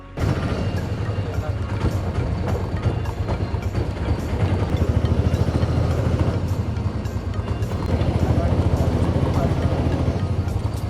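A train stands at a railway station with its engine rumbling in a steady low drone, while people talk nearby over the constant hum.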